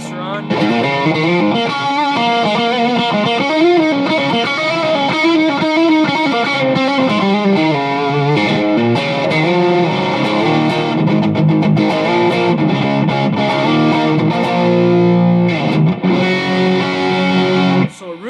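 Heavily distorted electric guitar runs through an MXR Custom Comp compressor pedal, dense sustained chords and riffs played loud and continuous for the whole passage.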